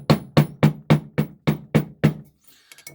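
Steel stamping tool struck repeatedly with a hammer into leather for a rough hammered background texture: eight sharp, loud, evenly spaced blows close up, then a few lighter taps trailing off.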